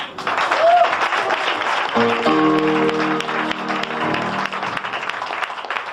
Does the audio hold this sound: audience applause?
yes